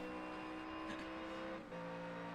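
A big V8 race car engine whirs in iRacing at the Daytona 24-hour race, a steady, faint tonal drone with a brief dip near the end.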